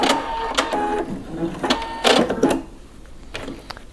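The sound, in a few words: sewing machine back stitching lace underwear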